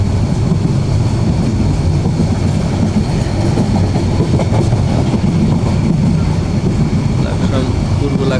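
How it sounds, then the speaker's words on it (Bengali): A fast train runs through Laksam with a loud, steady, close rumble of wheels and carriages and faint clickety-clack throughout. "দ্রুতগামী ট্রেনও অতিক্রম করতে"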